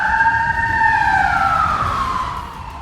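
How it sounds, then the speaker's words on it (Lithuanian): An AI-generated emergency vehicle siren wails loudly and alone, a single sustained tone sliding slowly downward as it fades slightly at the end. "Su sirenom."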